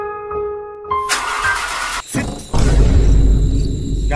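A car that has broken down is restarted: a tonal hum and a few clicks, then a harsh cranking burst, a brief dip, and the engine catching into a loud, steady low rumble.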